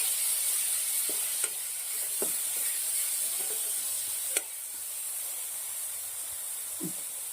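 Tomatoes added to a pan of frying garlic and chillies give a steady close sizzle and hiss, broken by a few soft stirring clicks and taps.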